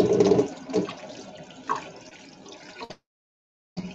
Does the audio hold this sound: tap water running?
yes